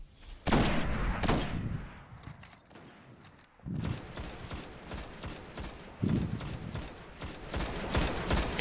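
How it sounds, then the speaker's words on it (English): Sniper and scout rifle fire in the Destiny video game cracks out in sharp, loud single shots spaced a few seconds apart, each with a short echoing tail, over faint battle noise. "He's putting sniper bullets into him."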